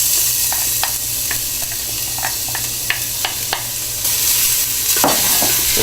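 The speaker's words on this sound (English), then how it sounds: "Drop in your garlic." Garlic sizzles in a pan for turkey chili, a steady close hiss with sparse sharp pops and crackles, swelling slightly louder toward the end, no voices.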